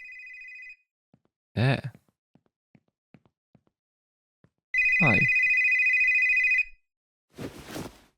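A telephone rings in The Store Is Closed video game, two bursts of a steady electronic trill separated by a pause, with soft footsteps between them and a person speaking briefly after each ring.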